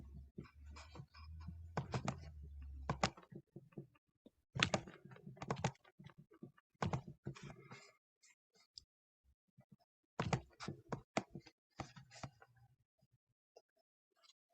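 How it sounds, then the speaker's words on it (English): Bursts of fast clicking keystrokes on a computer keyboard, coming in uneven runs with quiet gaps between them, fairly close. "I can hear the typing"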